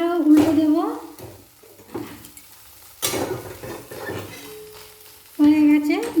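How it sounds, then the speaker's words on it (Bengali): A vegetable rice uttapam sizzles in a pan on low flame as it is flipped, giving soft frying hiss and brief scrapes between bursts of nearby talk. "এরপর উত্তপমটাকে উল্টে দেব"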